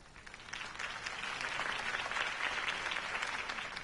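Steady applause from a large crowd in the video game Batman: The Telltale Series, dense and continuous, holding at an even level throughout with no voices standing out.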